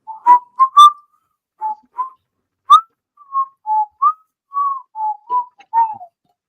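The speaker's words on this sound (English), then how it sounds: "I might have missed out on the Andy Griffith whistling" A person whistles a simple, bright melody alone, with short separated notes and brief pauses between phrases.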